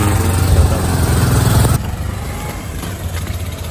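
Motor vehicles pass on a bridge near Jog Falls in Karnataka. A loud, close engine drone and road rumble fill the first half, then drop to a quieter, more distant traffic hum.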